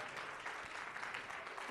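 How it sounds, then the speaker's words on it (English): A church congregation applauds the worship team at a Baptist service, a steady dense clapping that fills the room evenly, heard fairly faintly and with no clear speech. "But don't stop clapping. Let's give this worship team a hand."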